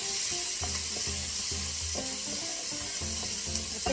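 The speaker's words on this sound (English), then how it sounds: "So just fry your onions and your garlic together." Onions and garlic sizzling in hot oil in a single cooking pot, a steady close frying hiss with faint stirring knocks underneath.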